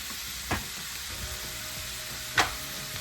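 Onions frying in a pan for homestyle paneer bhurji give a steady, close sizzle, with a couple of brief sharp crackles or stirring knocks rising above the hiss.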